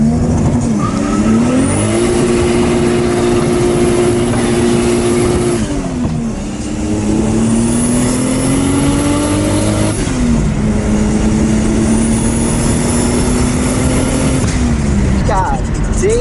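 A 2JZ-swapped Mazda RX8 revs loud and close, the engine note climbing and falling across several long pulls with brief lifts between them, over background music.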